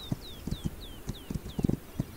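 Horse hooves clip-clopping in the This Land Is My Land video game, a steady walking rhythm of muffled thuds close by, with a faint repeating whistle-like tone above them.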